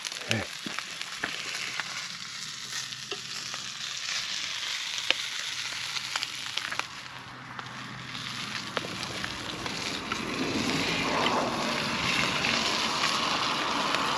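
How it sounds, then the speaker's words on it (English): Sausages and burgers sizzle steadily over an open-flame log burner, a continuous frying crackle with scattered pops and snaps that swells louder toward the end, with no talking. "And the sizzling of the food."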